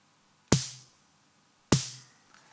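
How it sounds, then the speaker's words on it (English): Two dry gated snare drum hits without reverb, evenly spaced, each a sharp crack with a brief ringing tail that cuts off quickly, alone and up close. "First one, without any reverbs,"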